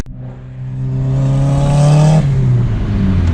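Turbocharged car accelerating onto a highway, its engine note rising steadily and loud from inside the cabin, then easing off as the revs drop near the end, with no talk.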